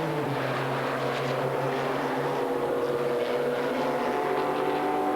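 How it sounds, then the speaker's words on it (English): V12 Ferrari sports cars racing in the 1997 Monza 1000 km, heard as a steady, distant engine drone with sustained high-pitched tones under constant broadband noise. "the fans here absolutely thrilled to the sight and sound of these V12 Ferrari sports cars"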